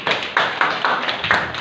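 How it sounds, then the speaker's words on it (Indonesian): A small group of women applauding at a family finance training session, with about five distinct bursts of hand clapping in a quick, uneven rhythm, close and fairly loud. "Tepuk tangan."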